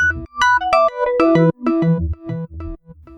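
A synth line run through iZotope dynamic delay with a parallel distortion path, playing a busy sequence of bright, harmonically rich notes with echoing repeats that overlap densely, loud and close with no voices.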